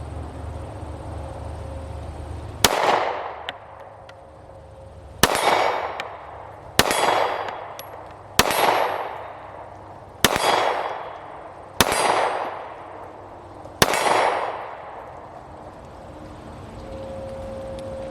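Seven loud, sharp gunshots at an outdoor gun range, each a hard crack with a short ringing tail, spaced a couple of seconds apart, with no talking.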